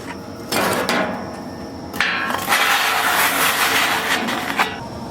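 A metal spatula scrapes across a Camp Chef FTG600 flat top griddle in a few long, harsh, gritty strokes, loud and close with brief pauses between passes.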